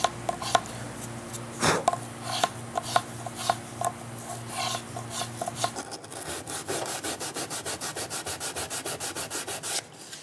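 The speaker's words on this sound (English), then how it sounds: "This is just a very quick, rough sanding, certainly not finished." Rough, scratchy sanding strokes rub back and forth on wood in a steady rhythm, close up. Later the strokes grow quicker and more regular, with no talking.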